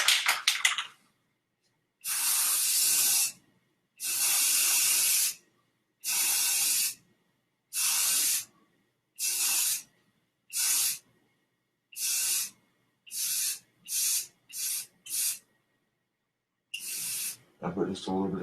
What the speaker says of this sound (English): I put just a little bit of glow in the dark spray paint on the